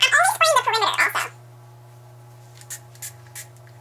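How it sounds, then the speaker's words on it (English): A person talks briefly, then a spray bottle gives several quick, soft spritzes of water onto the hairline of natural hair, spaced about a third of a second apart in a quiet room. "I'm only spraying the perimeter also."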